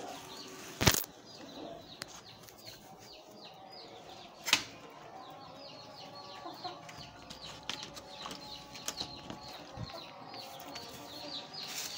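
Pigeons and chickens being fed grain: chickens cluck softly in the background while wings flap in two sharp bursts, with scattered light pecking and shuffling sounds.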